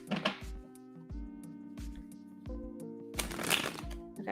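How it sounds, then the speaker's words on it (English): A deck of tarot cards is shuffled in short, riffling bursts separated by soft thumps as the cards are tapped together, with faint background music and no voices. "I feel like they're shuffled enough because they're trying to like stop me from shuffling."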